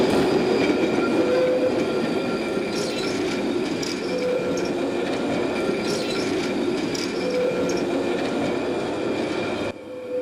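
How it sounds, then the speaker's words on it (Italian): The Opicina tram runs on its rails during test runs after track work, with a loud, steady rumble of wheels and car body and faint squeals and clicks, close by and continuous with no talk. "Prove tecniche in diretta del tram di Opicina che sono iniziate oggi dopo i lavori."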